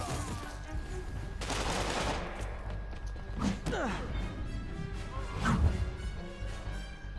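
Gunfire in the Marvel's Spider-Man video game, a mix of scattered shots and sharp cracks over a busy background din, with louder bursts near the middle and toward the end.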